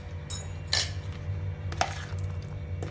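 A spoon clinks and scrapes against a bowl while tomato salad with chopped coriander and green chili is mixed, a few sharp taps over a low steady hum, close and without talk.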